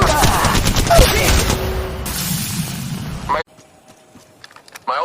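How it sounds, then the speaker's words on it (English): Rapid automatic gunfire and bursts from the Apex Legends video game rattle loudly under voice lines, then cut to near silence before a final burst. "Shots fired and they're hitting me."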